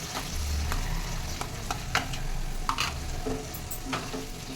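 Sauce mixture being stirred into frying chilli chicken in a pan: a continuous close sizzle with repeated scraping and clinking of the spoon against the pan, no talking.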